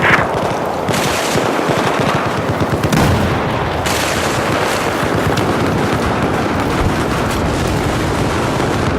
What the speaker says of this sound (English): I spotted an enemy machine gunner to your